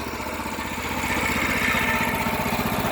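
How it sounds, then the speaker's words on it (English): Harbor Freight mud motor engine running steadily, a close, rapid, even putter of a small single-cylinder motor at a constant speed with no talk. "It's a Hardless freight mud motor."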